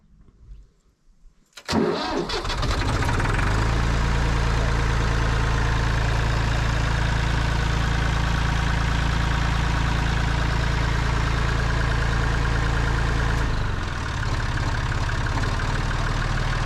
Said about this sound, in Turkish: Hadi gelin bir marş basalım da bu da çalışsın.